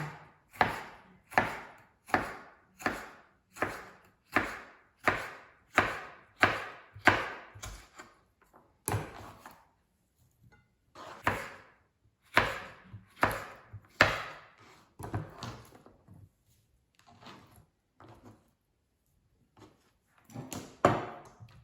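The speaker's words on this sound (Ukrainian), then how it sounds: "Болгарський перець буду різати соломкою." A knife chops bell pepper into thin strips on a board, a steady run of crisp, evenly spaced cuts that slows into scattered, irregular chops partway through, close and alone with no talking.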